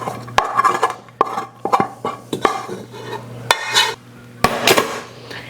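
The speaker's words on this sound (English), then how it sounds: "I'm just gonna add this rice directly in. This was 2 cups of brown rice." Cooked brown rice tipped from a container into a pot, giving a string of sharp clanks and scrapes of metal and utensils against the pot, with soft thuds of rice between them, close up and with no talking.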